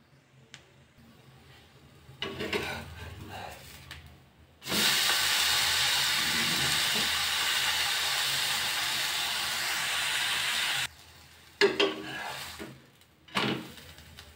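Rice flour uttapam cooking on a pan with oil, a loud, steady hiss that starts abruptly and runs for about six seconds before cutting off, surrounded by quieter clinks and handling sounds.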